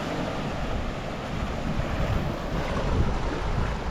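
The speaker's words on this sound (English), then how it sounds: "this is the weirdest beach I've ever been on" Wind and surf on a small beach north of Benidorm in Spain roar in a steady broadband wash, wind buffeting the microphone up close, no voices.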